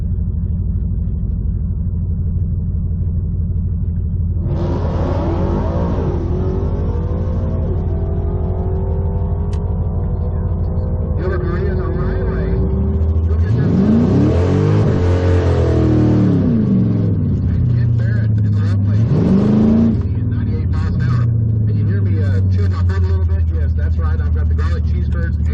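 A 2022 Ford Mustang at a Mod Motor Nationals drag race revs loudly, its engine pitch repeatedly climbing and falling in long sweeps, with a public-address announcer talking over the noise.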